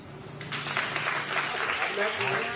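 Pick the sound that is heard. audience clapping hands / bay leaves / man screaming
audience clapping hands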